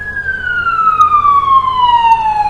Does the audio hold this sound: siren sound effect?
yes